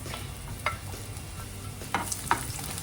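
Garlic frying in about two tablespoons of cooking oil for chicken liver sauté, with a steady soft sizzle under a few sharper stirring scrapes and clinks near the end.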